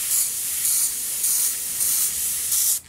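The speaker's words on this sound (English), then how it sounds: "So I apologize for my compressor, it's a bit loud. You will keep hearing it as long as I'm using the airbrush." An airbrush sprays paint through a stencil with a steady, loud airy hiss that pulses slightly in strength for about three seconds, then drops away briefly at the end.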